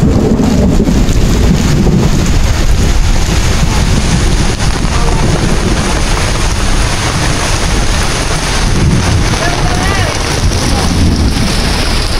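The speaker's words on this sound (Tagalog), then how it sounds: "Hey guys, ang lakas na ng ulan." Heavy rain pours down in a dense, continuous roar, loud and close, with wind buffeting throughout.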